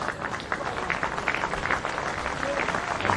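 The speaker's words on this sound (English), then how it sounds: "Some nice applause for the Queensland boys" Spectators at a schoolboy rugby championship match between Queensland and New South Wales give the Queensland players a short burst of steady crowd applause, fairly close and even, with a commentator speaking over it.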